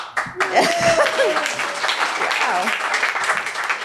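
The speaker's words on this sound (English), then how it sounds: "I didn't even have to write a book, and I got some applause." Audience applause at an evening book talk on the climate emergency, a full, steady roar of clapping with a few voices and cheers rising over it near the start, holding strong to the end.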